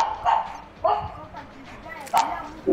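A pug in the video game Terraria gives short yips and barks, four brief bursts spaced out over a steady low background, with game sounds mixed in.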